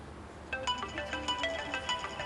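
A phone ringtone plays in a repeating melodic pattern of short electronic tones, fairly close and clear, with no talk over it.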